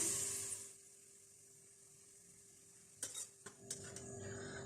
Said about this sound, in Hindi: प्याज को लाइट गोल्डन होने तक तेज आंच पे फ्राई करेंगे।